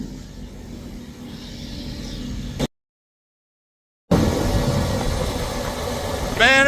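A tractor engine idles after a cold start, a steady low rumble close by. It drops out briefly and then returns as a continuous drone, with a short whine near the end.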